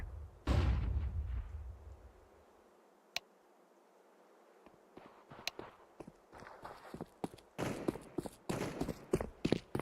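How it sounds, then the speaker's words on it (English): A flashbang grenade goes off in a video game: one loud, close blast with a deep rumbling tail, then near silence broken by faint clicks. Soft footsteps and shuffling movement follow, and no one speaks. "I'm throwing a flashbang"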